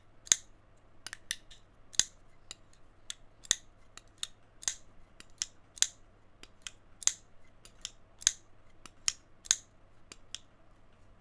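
A Tulster GreyWorks GW1 knife blade snaps open on smooth bearings again and again, a run of sharp, crisp clicks in an irregular rhythm, close and fairly quiet against a faint background hum.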